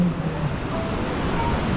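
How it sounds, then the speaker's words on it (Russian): Ocean surf rolls and washes continuously at a seaside surfing competition, a steady broad roar with wind buffeting the microphone. "тем более там соревнования серфинга, да тем более на океане"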